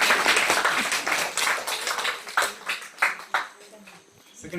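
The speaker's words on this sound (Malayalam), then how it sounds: "എല്ലാരും ഒന്ന് കൈയടിച്ച് പ്രോത്സാഹിപ്പിക്കണം." A crowd claps at a church community anniversary and feast as winners are announced. The applause is steady and dense, then breaks into scattered, uneven claps that fade toward the end, with voices mixed in.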